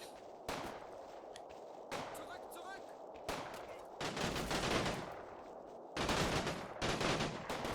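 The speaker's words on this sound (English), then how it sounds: "There is a machine gun position here that's firing in." Machine gun fire in the Combat Mission WWII strategy game comes in repeated rattling bursts of mixed rifle and automatic fire, with loud stretches separated by shorter pauses.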